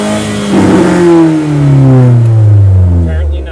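A Chevy Sonic engine, fitted with a WOT box and held on a two-step launch limiter at about 4,000 RPM, revs loud and close with a rising, bouncing engine note, while a voice talks over it.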